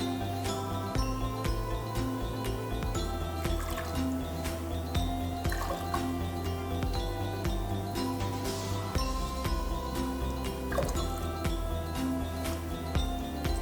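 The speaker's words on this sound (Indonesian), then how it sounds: "Kita tuangkan airnya." Water pours into a pot for Indonesian tinutuan porridge with a faint, steady trickling and filling sound, plus a few light drips and clinks, mixed under continuous background music.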